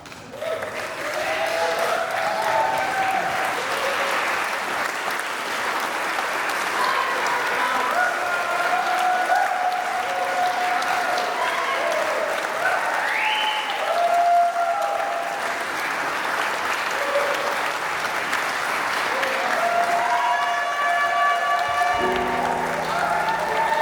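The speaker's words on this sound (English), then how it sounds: "I want to clap you guys." A crowd at a light show applauds at length, broad continuous clapping with cheering voices and some whistles woven through, loud and steady for the whole stretch.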